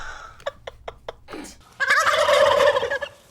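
A person imitates a turkey gobble with the voice, in a quick rattling burst of clicks followed by a louder, sustained warbling call.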